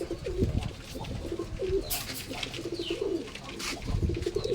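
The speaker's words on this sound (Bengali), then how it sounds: "ওয়াও কবুতরটা কিন্তু দারুণ সুন্দর আরো কিছু কবুতর আছে দেখি" Pigeons in a loft cooing in overlapping, throaty phrases at a moderate distance, mixed with wing flutters and light rustling. The sound is fairly faint throughout, with no talking.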